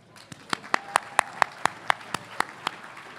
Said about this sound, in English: why don't you guys give yourselves all a round of applause